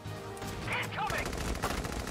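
Enemy gunfire in a video game, a short stretch of rapid crackling shots over a continuous noisy game soundscape.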